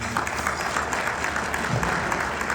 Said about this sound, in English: Please give a round of applause to these wonderful leaders.